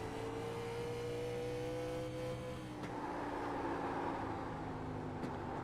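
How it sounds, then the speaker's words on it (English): Classic race cars roar steadily through the turns at Bristol Motor Speedway, the engine drone holding loud and close with pitch shifts as they slide, over continuous track noise. "see exactly what it looks like inside these cars as you hear them slide through the turns here at Bristol Motor Speedway"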